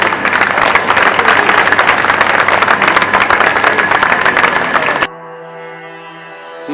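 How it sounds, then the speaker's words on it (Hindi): Audience applause greeting guests at a Hindi-language gathering, dense and loud for about five seconds before cutting off abruptly into a quiet tonal tail. "तालियों के साथ उनका स्वागत करें"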